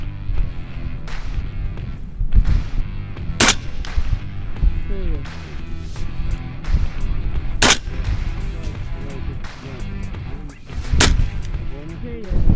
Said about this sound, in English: It's a very smooth shooting rifle.